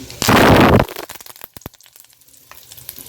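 Curry leaves dropped into hot oil with mustard seeds and fenugreek while tempering for a spicy tamarind green-chilli dish: a loud, close burst of sizzling for about half a second, then trailing crackles and pops.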